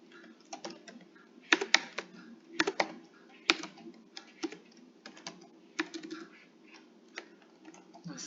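Someone types on a computer keyboard, giving quiet, uneven clicks with a few sharper key taps. The keystrokes come in short clusters in a quiet room, with no talking.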